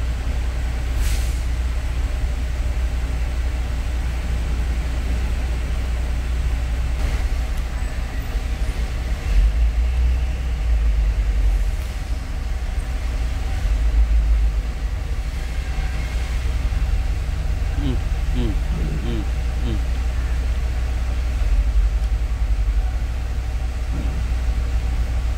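A stuck truck hauling construction piling posts idles with a steady, heavy low rumble that carries on throughout. Faint hissing chirps surface briefly near the end, and no one speaks.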